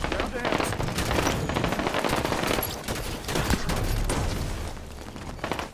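Dense video game gunfire keeps up almost without a break: rapid automatic bursts mixed with single shots and booms, loud and busy, with a voice talking underneath.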